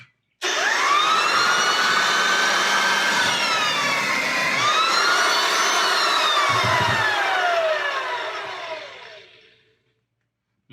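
An American Sanders B2 floor edger running on sandpaper, a loud steady motor whine with a shifting pitch that holds for several seconds, then winds down and fades to silence.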